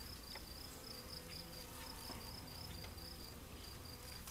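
A low, constant buzz of many honeybees swarming around a hive nearby, with faint rustling underneath and no talking.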